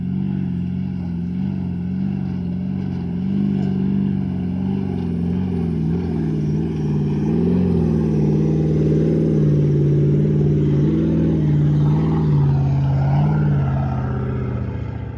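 Several 4WD vehicles drive across Simpson Desert tracks, a continuous loud engine drone with shifting pitch as revs rise and fall, close by and without speech.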